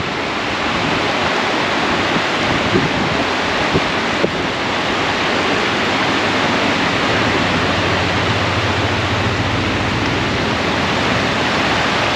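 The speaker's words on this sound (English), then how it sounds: "And it's the Presque Isle River again." The Presque Isle River rushes along with a loud, steady roar of churning water, heard up close and unbroken with no voices.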